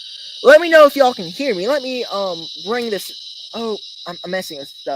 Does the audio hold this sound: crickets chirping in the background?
yes